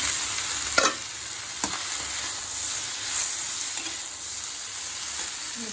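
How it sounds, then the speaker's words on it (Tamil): Tomatoes fry briskly over high heat in a pan for a spicy kara chutney, giving a steady close sizzle with a few sharp stirring scrapes and no talk. "இப்போது நான் தக்காளி போட்டு ரெண்டு நிமிஷம் ஆகுது நல்லா ஃபாஸ்ட்டில் தான் வச்சுருக்கேன்"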